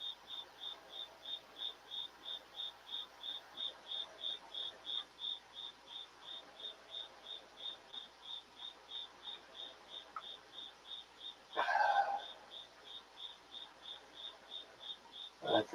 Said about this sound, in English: Everybody says my pet cricket needs to pay rent.